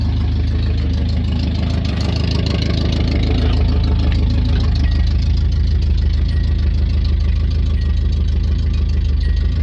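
A 1984 Subaru GL wagon engine idles steadily and loudly with a low, even rumble and faint knocking texture, running alone without any talking after sitting unstarted for years.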